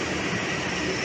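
The Lodaya passenger train bound for Solo Balapan rolls into an Indonesian railway station, giving a steady loud rumble with a broad wash of noise that stays even throughout.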